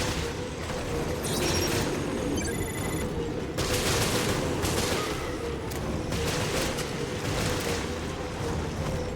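Gunfire in the Resident Evil Revelations PC video game: a dense, continuous fusillade of game gunshots that rolls on loudly and steadily for the whole stretch, with a few brief bright electronic tones near the start.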